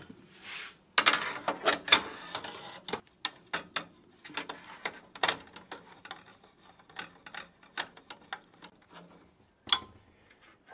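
A screw is driven by hand to fasten a drive inside an HP desktop computer, giving a string of sharp, close metallic clicks and ticks in irregular bursts against a quiet background.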